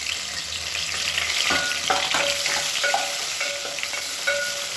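Cinnamon, cardamom, cloves and onion fry in oil for biryani, a constant bright sizzle with a few stirring scrapes and clinks of a utensil against the pan, close by and with no talking.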